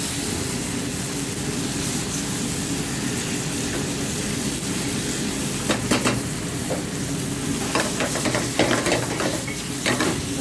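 Arrabbiata sauce in a pan gives off a loud, steady sizzle throughout, with scraping stirring strokes growing more frequent toward the end.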